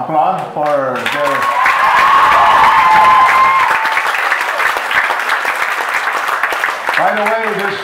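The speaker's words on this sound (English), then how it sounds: "Can you please give them an applause for their..." A crowd at a college founding day celebration applauds and cheers canoe sailors after their sail is raised, loud and sustained, with a voice speaking over the start and again near the end.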